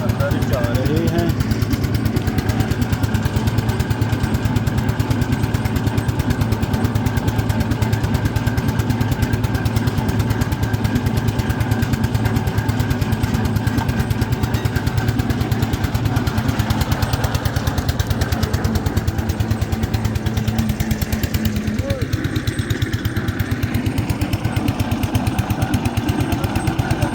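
A water boring machine drives pipes into sandy ground for a tube well in Pakistan, a loud continuous engine chug with rapid pulsing thumps that runs steadily throughout, close up.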